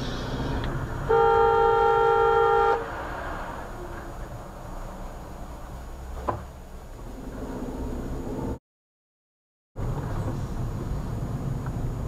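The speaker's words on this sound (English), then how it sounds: "Who honked then? Was that the lorry?" A lorry's horn blares in one long, steady honk of about two seconds over the drone of road traffic, followed by continuing engine and road noise.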